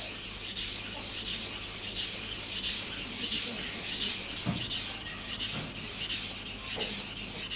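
A knife is sharpened on a wet Japanese whetstone with steady, rhythmic back-and-forth strokes, each a gritty rasp in a regular pulse of about two per second, close and fairly loud.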